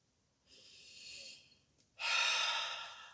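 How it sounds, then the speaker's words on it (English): Slow, deep breaths drawn in and out from the stomach, heard as two soft airy bursts of breath at close range, the second longer and louder, with a brief pause between them. "if you're standing or sitting, I'd like you to breathe"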